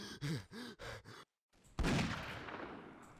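Gunfire in the Mount and Blade Warband game with an 1860s Old America mod, a single sharp, loud shot that decays into a long rumbling tail, preceded by brief vocal sounds.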